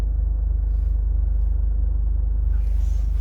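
A Toyota GR Corolla engine idles at a low, steady rumble right after starting, a soft even throb heard from inside the car with no talking.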